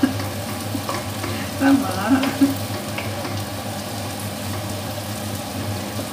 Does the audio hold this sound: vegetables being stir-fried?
yes